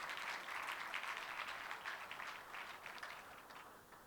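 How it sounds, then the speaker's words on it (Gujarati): Loud applause from an audience at a youth spiritual camp welcoming a speaker, a dense, continuous roar of clapping that tapers off slightly toward the end. "તો આપણે એકવાર જોરદાર તાળીઓના નાદથી એમને આવકારીએ"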